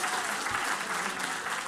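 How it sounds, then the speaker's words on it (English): Audience applause for a student demo at a 2016 computer science education day, a steady wash of clapping throughout, fairly soft and distant. "can I get a clap for my partner, Carlos?"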